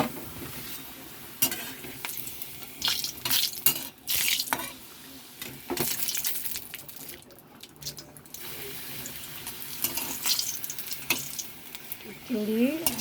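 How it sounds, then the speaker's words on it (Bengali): Papad fries in hot oil with uneven crackling and sizzling bursts, mixed with splashy running-water sounds and some kitchen clatter, and a voice is faintly present at times. "পাঁপড় ভাজা হচ্ছে।"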